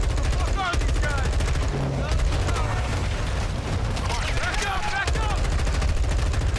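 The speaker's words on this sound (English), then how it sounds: "Contact rear! Goddamn." Loud, dense video game firefight with rapid bursts of automatic gunfire and scattered shots running continuously, under shouted voices of soldiers calling out contact and casualties.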